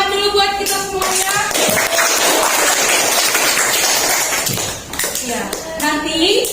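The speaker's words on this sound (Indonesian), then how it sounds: "tepuk tangan dulu buat kita semuanya" Students in a classroom clap together in a sustained burst of mixed hand claps, loud and close, with a teacher's voice heard at the start and the end.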